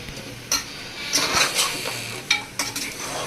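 A spoon scrapes and knocks around a pot as country chicken is stirred with salt and turmeric, a few sharp clinks and scrapes over a soft sizzle, close and without talk.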